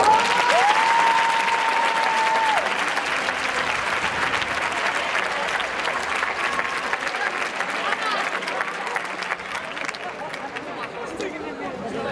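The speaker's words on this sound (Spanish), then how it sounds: "un fort aplaudiment per a ella, per favor" Sustained applause from a crowd at a high school graduation ceremony, dense clapping that fades slightly toward the end, with a brief tonal whistle near the start.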